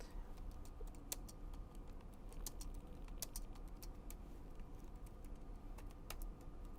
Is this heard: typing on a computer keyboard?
yes